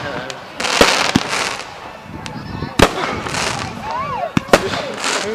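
Bonfire night fireworks with repeated sharp bangs and crackling bursts near and far, scattered irregularly over a hiss of background noise, with people talking throughout.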